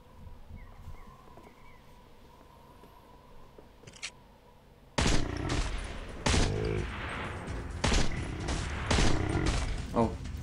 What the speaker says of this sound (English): That was actually five hard shots.